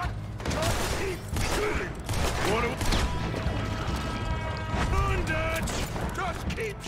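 Gunfire in the video game Red Dead Redemption II, with bursts of shots and booms spread through the scene. Shouted voices and tonal game sounds run over the shooting.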